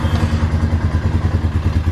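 A 2004 Honda Rancher TRX 400 four-wheeler with a freshly installed starter, cranking into a loud, close, rhythmic chugging pulse of thumps that holds steady for a couple of seconds.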